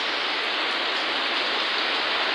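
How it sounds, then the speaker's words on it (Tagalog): Steady heavy rain during Typhoon Nando in Poblacion, Santa Catalina, Negros Oriental, a dense continuous hiss with no break and no voices. "Madalas na mag-ulan, so may kasamang hangin, medyo mahangin ngayon."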